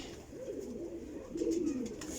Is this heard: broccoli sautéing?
no